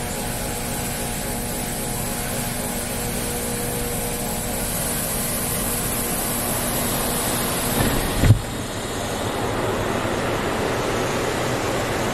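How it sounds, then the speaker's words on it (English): A Belanger Saber car wash machine hums constantly with a tonal drone, then cuts off abruptly after a brief clunk, leaving a broader rushing noise. "It's like a hum noise. Maybe that's just the machine."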